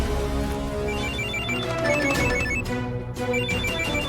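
A mobile phone ringtone plays steadily over a full, loud musical bed, its melodic tones repeating throughout with no one speaking.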